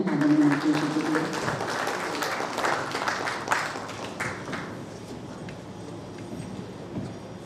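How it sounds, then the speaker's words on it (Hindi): Applause from an education pre-summit audience in Rajasthan greeting a minister, loud at first and gradually fading, with voices mixed in alongside the clapping. "जोरदार तालियां हो जाएं माननीय मंत्री जी के लिए"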